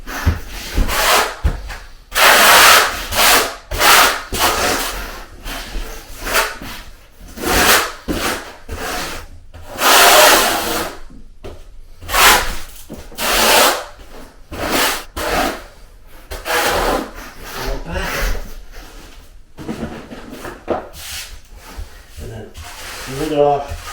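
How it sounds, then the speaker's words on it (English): Mortar flat-troweled onto a damp shower mud bed during a curbless shower install, with repeated close rasping strokes coming in bursts and pauses, while someone talks at times between them. "I am going to first flat trowel and then do the notches"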